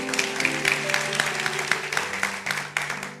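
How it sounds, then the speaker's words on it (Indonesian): A church congregation at GMS Semarang claps steadily together, a dense patter of hands ringing through the hall with a sustained musical tone underneath, continuous for a few seconds. "Berikan tepuk tangan untuk Tuhan."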